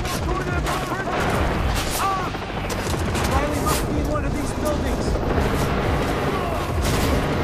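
Dense, continuous gunfire and explosions in the Far Cry 3 video game, loud and close throughout with overlapping bursts, with faint voice-like sounds mixed into the din.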